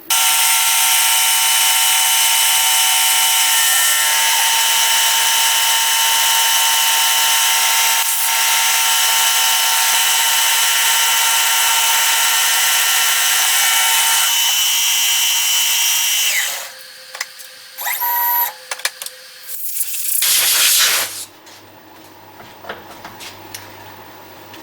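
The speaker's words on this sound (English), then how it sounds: "I'll go ahead, cut out the pocket on the inside." A CNC milling cutter pockets material for a steampunk Nixie clock, giving a loud, steady high whine for about sixteen seconds before cutting off, followed by a few short clattering bursts and quiet.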